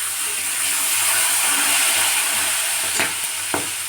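Green peas hitting hot oil in a wok give a steady, close hiss of frying with a couple of brief stir scrapes near the end, and no voices.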